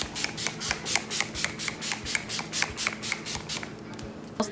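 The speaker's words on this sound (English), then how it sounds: "So we're gonna spray our face, and I spray a lot." Setting spray for oil control misted onto a face in many quick, rapid pumps, a steady rhythm of short close-up hissing bursts with no talking.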